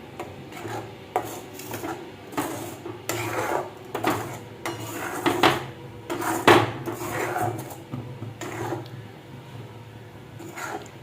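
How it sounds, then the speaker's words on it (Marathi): Grated coconut being stirred into sugar syrup in a pan gives soft scraping and clinking strokes of a spoon against metal, arriving in irregular bursts close by. "आता चव टाकून आपण हे छानपैकी मिक्स करून घेऊ"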